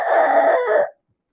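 A man imitates a rooster with his voice, producing a single loud, close crow lasting under a second that cuts off into silence.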